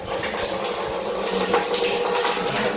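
Pumped water pours steadily into a household water tank, a continuous close rushing and splashing with no breaks.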